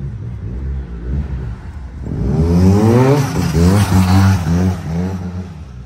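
A Yamaha T-Max scooter, smelling of ethanol, idles with a low burble before its engine revs up in repeated rising and falling surges, loud and close.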